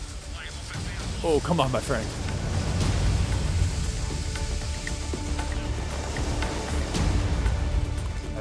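Hail and heavy gusts hammering a solo racing sailboat in a 47-knot storm during the Vendée Globe, a loud continuous roar of wind and water with a man briefly exclaiming early on.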